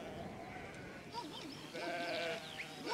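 A large flock of sheep, more than 2000 animals, bleats on a mountain alpine pasture, with wavering calls overlapping at middle distance over a steady outdoor background hiss.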